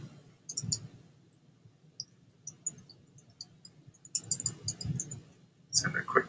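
Short, crisp mouse clicks come in small bursts during a software demonstration, fairly quiet and close, with a voice talking softly between them.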